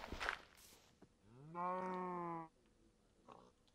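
A cow in a video game gives a single drawn-out, fairly loud moo lasting about a second, with faint footsteps and clicks before and after.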